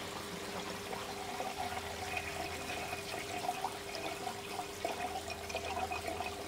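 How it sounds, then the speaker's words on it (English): An aquaponics high water siphon outlet drains with bubbling, a faint, steady wash of water with soft gurgles over a low constant hum. "let's see the siphon action now"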